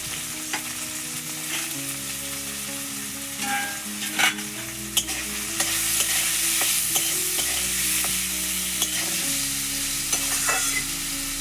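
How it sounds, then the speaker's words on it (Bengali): Potatoes fry in hot oil with a steady, loud sizzle, punctuated by scattered clinks and scrapes of a utensil stirring the pan. "আলুটা এবার ভেজে নেব।"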